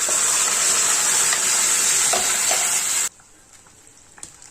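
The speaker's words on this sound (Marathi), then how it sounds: "आता आपण ग्रेव्ही बारीक गॅसवर थोड्या वेळ परतायची आहे" Gravy for vegetables, made without onion or garlic, fries in oil on a low flame with a loud, steady sizzle that cuts off abruptly about three seconds in, leaving faint kitchen clinks.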